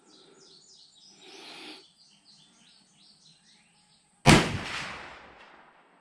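A 350 Legend Mossberg Patriot rifle fires one loud, sharp shot at an outdoor range, cutting in after faint birdsong and decaying into a short echoing tail.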